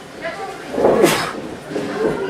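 During live wrestling commentary, a single sharp sneeze bursts out over the steady murmur of the arena and the commentators' talk.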